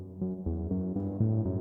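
Dark, low-octave Serum synthesizer patch played dry without reverb, a short melodic run of sustained bass-heavy notes changing pitch every fraction of a second, quiet and alone.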